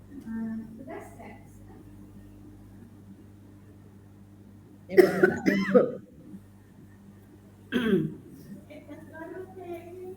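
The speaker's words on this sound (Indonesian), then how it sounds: "Kasihan orang batuk nih." A person coughs in two harsh bursts, the first a quick string of coughs and the second a single cough, with quiet murmuring before and after.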